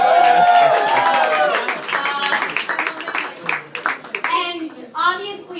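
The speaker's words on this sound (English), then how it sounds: "That also deserves an applause." Wedding guests at a Gramercy Park Hotel reception break into brief clapping and some cheering, loud at first and then fading into scattered claps while a voice speaks over the room.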